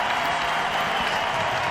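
A baseball crowd cheers and applauds at an NCAA tournament game between NC State and Arkansas, a dense, loud, continuous wash of clapping and shouting with no break.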